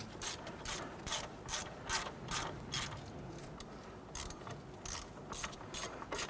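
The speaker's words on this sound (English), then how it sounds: "As you're tightening these bolts, it's going to pull the wheel hub into the knuckle." A ratchet wrench tightening the wheel hub bolts on a Nissan Frontier during a front wheel bearing and hub replacement, giving quick bursts of clicking at an even rhythm, close and fairly quiet, with no talking.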